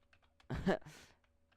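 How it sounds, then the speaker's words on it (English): Keys clack on a computer keyboard in a short burst of typing, close and moderately loud, then fade into quiet room tone. "I shouldn't be typing on camera"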